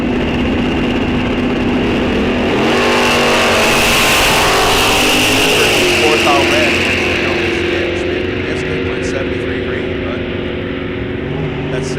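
Drag racing cars at Rock Falls Raceway in a bracket series roar loudly and continuously down the strip, engine pitch sweeping as they launch, with a track announcer talking over the noise.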